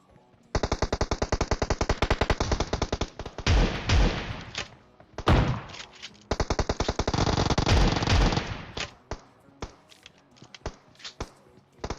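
Gunfire from players fighting in the PUBG Mobile battle royale game: rapid automatic bursts crackle loudly for several seconds, pause, then resume, ending in scattered single shots.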